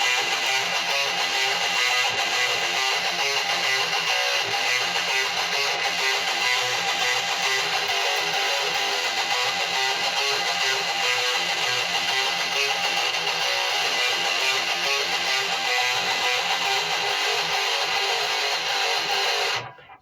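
Electric guitar plays a riff in a steady, dense, loud distorted chug that continues without pause and cuts off at the end.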